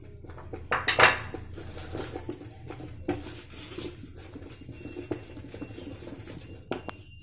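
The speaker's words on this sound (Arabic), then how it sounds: "صافي غنبدا نحرك على هذا الشكل." A spoon stirs sifted flour into orange cake batter in a bowl, giving scattered clinks and scraping taps that are loudest near the start and then settle into softer, irregular stirring with no talk.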